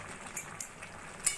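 Raw papaya curry simmering in a pan with meat masala, garam masala and Kashmiri chilli powder, giving a steady soft sizzle broken by a few light scrapes and clinks of the spoon as it is stirred.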